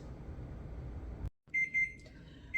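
Kitchen timer beeping while farmers cheese cools, a clear electronic tone sounding twice in short bursts then holding briefly, loud and close after a low steady room hum cuts out.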